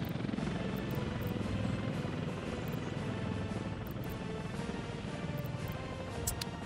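In Workers and Resources: Soviet Republic, a construction office's passenger helicopter hovers with a continuous chopping rotor thrum and engine whine, steady and close throughout, with faint clicks scattered over it.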